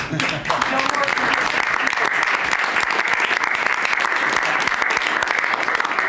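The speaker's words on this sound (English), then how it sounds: "The press actually broke out in applause." Sustained loud applause from press reporters at a Cabinet meeting, a room full of people clapping steadily throughout after a brief quieter start.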